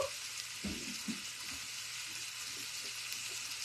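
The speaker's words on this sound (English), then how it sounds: "I'm sauteing the jalapeno in that oil so that it starts to release its flavor" A jalapeno sautéing in hot oil among softening vegetables for a Mexican corn potato soup, a steady close sizzle with a few soft stirring knocks early on, no voices.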